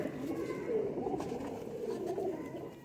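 A Teddy Sialkoti pigeon coos softly and close by, with low, rolling, throaty calls running through nearly three seconds.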